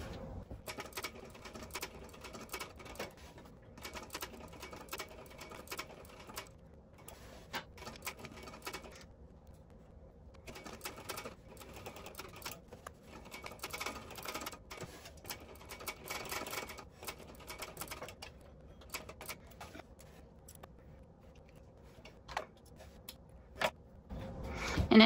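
Sewing machine stitching across the bottom of a bag, quiet rapid mechanical clatter in irregular bursts with short pauses, close and alone.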